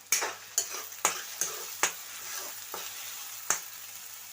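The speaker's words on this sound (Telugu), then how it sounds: "గోల్డెన్ బ్రౌన్ కలర్లో వచ్చేటట్టు పెట్టుకోవాలి ఉల్లిపాయలు ఒకసారి మళ్ళీ కలుపుకుందాం" Onions fry toward golden brown in a pan under a soft continuous sizzle, punctuated by about eight sharp, close taps and scrapes as they are stirred at uneven intervals.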